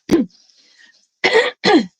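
Three harsh coughs, one sharp cough followed by a faint pause, then two more close together, loud and near.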